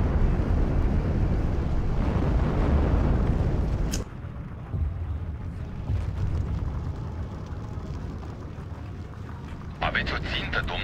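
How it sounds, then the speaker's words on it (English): Artillery explosions in the video game Steel Division 2 make a heavy, continuous broadband rumble with a sharp crack partway through. Voices can be heard intermittently underneath. "these are wimpy explosions from this artillery"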